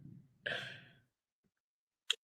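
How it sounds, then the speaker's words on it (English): A dog snores: a single long, raspy snoring breath close by, followed by silence and a couple of brief soft snorts at the end. "that is my dog that's snoring"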